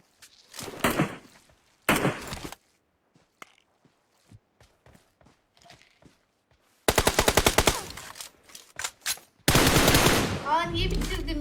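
Gunfire in the PUBG Mobile video game: rapid automatic bursts and single shots, loud and close, separated by quiet gaps with scattered footsteps and small taps.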